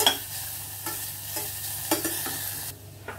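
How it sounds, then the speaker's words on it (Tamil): Onions sizzle and crackle as they fry in a pan for biryani, with spoon-stirring scrapes breaking through the steady, close hiss of the oil. "பாருங்கள், நல்லா வெங்காயம் நல்லா வதங்கிடுச்சு."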